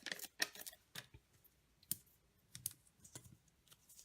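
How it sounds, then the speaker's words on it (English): Scissors snip the edge of a paper banner for a handmade holiday card: a handful of short, crisp cuts spaced irregularly, close and fairly quiet, with no talking. "I'm just snipping in the middle and then coming in from each side"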